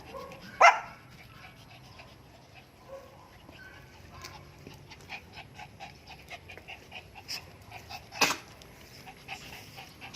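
Young puppies outdoors on wet grass: two sharp, close yips or barks stand out near the start and near the end, with quieter intermittent panting, whimpers and small rustles in between.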